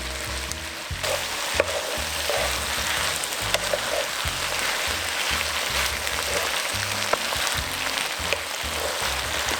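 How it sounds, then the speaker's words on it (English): Oil and black bean paste fry steadily in a pan for jajangmyeon, a dense continuous sizzle with faint crackles and soft stirring scrapes, close and with no one speaking. "Now saute this for about 1 to 2 minutes to extract the flavor and think like you're frying your paste."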